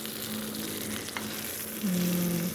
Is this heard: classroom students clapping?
no